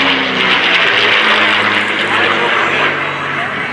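An airplane takes off at the 2024 MCAS Cherry Point Air Show. A loud, sustained engine roar fills the scene while an announcer talks over it.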